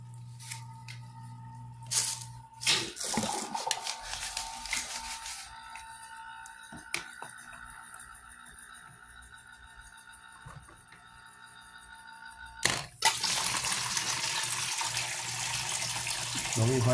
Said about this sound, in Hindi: अभी ये टैंक ओवरहेड टैंक फिल हो रहा है